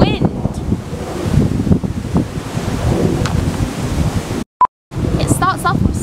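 Howling wind in a melancholy video game track, a broad steady rush that fills most of the clip before a sudden cut to near silence and a brief tone, then the wind resumes with faint higher whistles.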